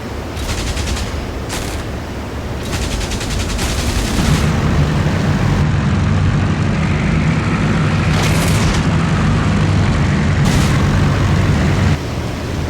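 Spitfire Mk. IXc firing its guns at a transport plane in the IL-2 Sturmovik flight combat game, several short, sharp bursts of rapid gunfire over a steady, loud engine drone, with no voices.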